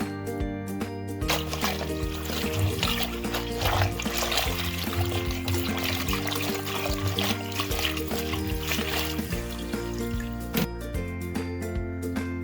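Running tap water rinsing gongura (sorrel) leaves, a steady close trickle and splash that continues without a break under a constant background hum.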